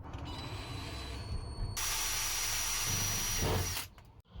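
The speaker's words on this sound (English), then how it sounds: "I'm having to drill new holes further in. So I'm just drilling the last ones now." Power drill boring new bracket holes into a car body, a steady high whine that runs continuously for a couple of seconds, close and loud, then stops abruptly.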